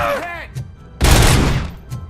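Gunfire in the RoboCop: Rogue City video game, a loud burst of shots erupting mid-clip after a shouted voice, with brief speech around it.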